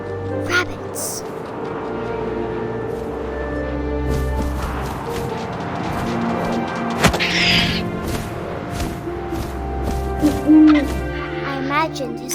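An owl hoots in the video game What Remains of Edith Finch, a few low calls heard under steady outdoor wind and game ambience, with soft thuds and rustles, while a voice narrates over it.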